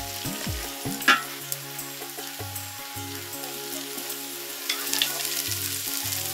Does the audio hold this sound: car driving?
no